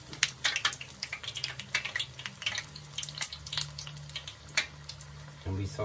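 Qatayef pastries frying in hot oil give a faint, steady sizzle with scattered crackles and pops, a louder bubbling burst near the end.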